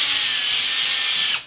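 A power drill bores through a PVC plastic elbow in one steady, loud, high-pitched whine that runs unbroken before the bit pulls free and the sound quickly tapers off.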